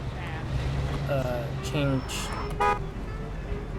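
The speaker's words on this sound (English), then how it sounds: "Oh, press E, but E is to honk, really?" Car horn honks in the video game Mafia II, heard as several short toots close together within a busy in-game street soundscape, with someone talking over them.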